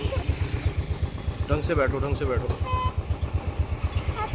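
A motorcycle engine idling as a family gets on the bike, a steady low putter of rapid regular pulses heard up close while people talk over it.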